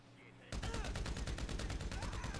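Rapid automatic gunfire in GTA Online, a dense, loud burst of shots in steady fast rhythm starting abruptly after a short quieter lead-in and continuing without pause.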